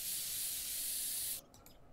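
An aerosol spray paint can hisses in a steady, bright, continuous burst in Woodwork Simulator, then cuts off abruptly, leaving a faint rustle.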